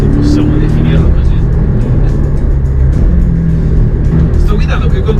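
A Porsche Boxster S 718 being driven with the stability controls switched off, its engine a loud, steady drone that holds throughout the clip with little change.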